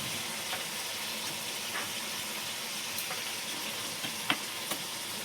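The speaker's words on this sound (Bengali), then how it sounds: "এই যে রান্না করতেছি, মাংস তুলে দিয়েছি" Meat sizzles and fries in a pan, a steady hiss running throughout with a few small pops and clinks near the end.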